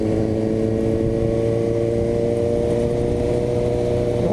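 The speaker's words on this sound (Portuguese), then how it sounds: "Vamos dar uma filmada aí na moto do Alencar" A red Suzuki GSX-S750 motorcycle engine drones nearby with a continuous, even hum and a steady buzzing tone that holds throughout.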